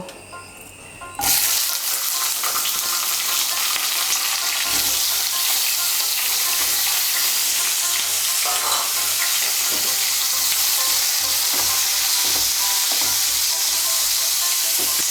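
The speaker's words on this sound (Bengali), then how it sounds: "ওই তেলে আমি বেগুনগুলো ভেজে নেব।" Eggplant pieces fry in hot oil for a Bengali sukto, a steady loud sizzle that starts after a brief quieter moment and continues evenly, close up, with faint stirring and no talk.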